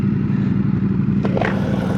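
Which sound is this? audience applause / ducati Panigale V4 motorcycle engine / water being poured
ducati Panigale V4 motorcycle engine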